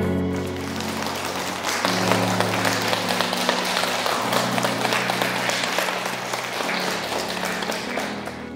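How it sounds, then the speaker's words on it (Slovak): An audience at a Miss Universe Slovakia semifinal applauds to welcome the jury, sustained, dense clapping over a low musical backing for several seconds. "Nezapomeňme je přivítat potleskem"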